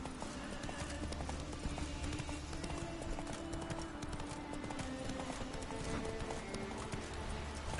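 A horse gallops in The Witcher 3, with rapid, steady clip-clop hoofbeats that continue throughout at moderate level over faint game ambience.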